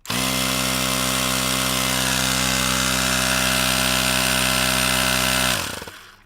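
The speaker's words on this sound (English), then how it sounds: "Attach your tire pump to the valve stem, and inflate to 45 psi" Tire pump running steadily while inflating a Razor MX350 Dirt Rocket dirt bike tire, a loud even motorized hum holding for about five seconds before cutting off abruptly.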